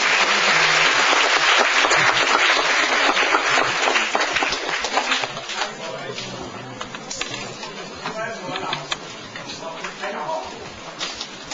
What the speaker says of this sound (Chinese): 热烈掌声迎接童庆祥老师